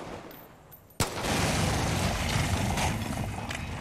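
Gunfire in the Far Cry 5 video game: a sharp onset shot followed by a sustained dense burst of loud, close firing that continues without pause to the end.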